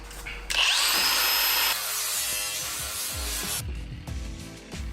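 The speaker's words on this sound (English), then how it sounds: "put a flapper on, probably like an 80 or something, and just smooth it out" An angle grinder with an 80-grit flap disc spins up with a rising whine, then grinds against a rolled car fender in a loud, steady rasping close up, shifting in pitch as pressure changes, with no talk.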